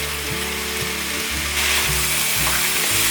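Softened tomatoes and enoki mushrooms stir-frying in olive oil give a loud, close, steady sizzle that swells brighter and hissier partway through.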